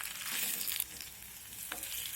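Drumstick flower fritters frying in oil over low to medium heat, a steady close crackling sizzle with a few brief stirring clatters.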